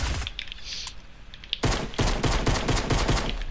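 SMG fire in Fortnite, a long rapid burst of close, sharp shots that starts abruptly after a quieter stretch of game noise and rattles on steadily to the end.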